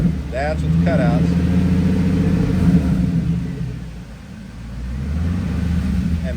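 Deep exhaust rumble from a 2000 Pontiac Firebird revving through its factory exhaust, close and fairly loud. It swells and sustains, dips briefly, then builds again.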